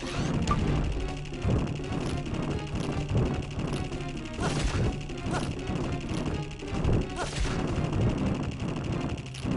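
Bombs go off in the Dark Cloud video game, a run of sharp booming blasts in quick succession over a busy game soundtrack, with several louder bursts standing out near the middle.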